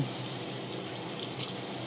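Water runs steadily from a bathroom sink tap, a close, continuous hiss and splash that holds even for the whole moment with no voices over it.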